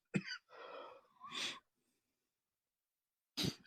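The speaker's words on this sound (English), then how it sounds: "I'm sorry, I was coughing." A few short, rough coughing bursts close to the mic, a brief pause, then one more sharp cough after a stretch of silence.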